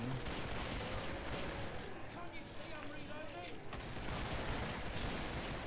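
Revolver fire in the video game Killing Floor, a rapid flurry of sharp gunshots mixed into a busy, noisy firefight, with people talking over the shooting.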